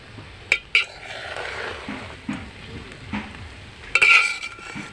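Cooked rice for fried rice is stirred slowly in a pan over low heat, with a soft sizzle under a few sharp metal clinks and scrapes of the spoon against the pan, close by and without speech.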